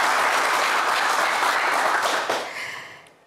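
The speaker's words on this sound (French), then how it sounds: "On vous applaudit encore très fort" Studio audience at a French TV game show bursts into loud, sustained applause that fills the space, then thins and fades out over the last second.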